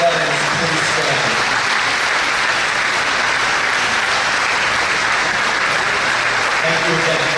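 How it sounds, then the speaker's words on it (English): A school gymnasium audience at a Wes-Del Middle/High School Veterans Day program applauds standing veterans with a dense, steady roar of clapping that lasts throughout. A voice speaks briefly at the start and end. "Can we give them a big round of applause?"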